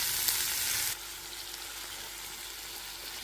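Tomato and chili sauté in a pan, a soft continuous sizzle that is louder for the first second and then drops to a quieter hiss, with a faint clink near the end and no talking.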